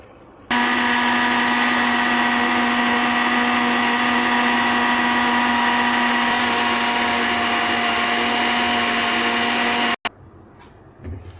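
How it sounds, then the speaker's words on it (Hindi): Electric blender whirs loudly and steadily for about ten seconds, blending chikoo paste with milk into a milkshake, its pitch shifting slightly partway before it abruptly cuts off. "अब बाकी दूध हम इसमें डाल के इसको फिर से ब्लेंड कर लेते हैं"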